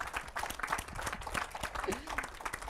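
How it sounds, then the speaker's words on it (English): Small audience clapping to thank Bishop Michael F. Burbidge after his talk, a light, scattered patter of hands with some murmuring voices mixed in, fairly quiet throughout. "you clap for Bishop Burbidge"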